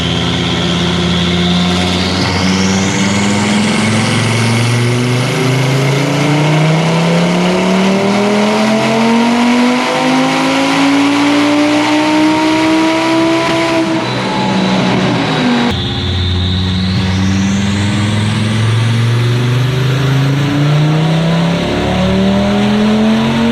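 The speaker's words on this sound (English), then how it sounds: "This is the very first time I will have ever dynoed this car with no exhaust." A car's engine runs on a dyno with its exhaust mid-pipe removed, loud and raw, and climbs through two long wide-open-throttle pulls, rising steadily toward high revs, cutting off, then sweeping up again.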